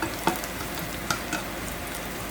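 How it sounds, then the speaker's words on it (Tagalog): Garlic fries in hot oil toward golden brown, a steady close sizzle broken by a few light clicks of a spatula stirring in the pan, with no talking. "Hintayin ko lang mga golden brown yung bawang."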